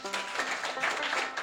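Audience applause in a Bengali cartoon magic show, a dense steady patter of many hands clapping for about a second and a half, fairly loud and continuous with no talk over it.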